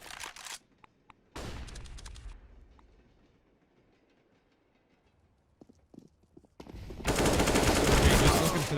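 Gunfire crackles in a Counter-Strike match, with rapid bursts of shots at the start and a loud sustained volley at the end, separated by a quiet stretch.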